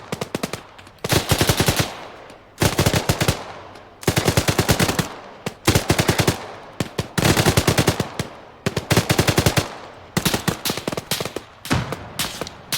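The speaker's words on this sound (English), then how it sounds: "The AI doing a good job of laying fire down there." AI soldiers in ARMA 3 lay down heavy gunfire in bursts of rapid automatic shots separated by short pauses, loud and sharp throughout, with no talking.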